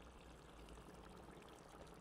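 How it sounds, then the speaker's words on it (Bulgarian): Hot water poured steadily over rice in a cast-iron kazan for Uzbek beef pilaf, a continuous close stream with no talking. "заливаме вода. Също водата трябва да бъде гореща."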